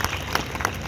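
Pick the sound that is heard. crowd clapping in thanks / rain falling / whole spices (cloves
crowd clapping in thanks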